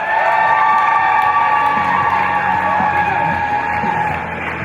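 Roller derby crowd in an arena roars and cheers steadily, a dense wash of yelling and whooping with scattered applause, loud and continuous throughout before easing slightly at the end.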